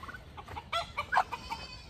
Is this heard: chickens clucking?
yes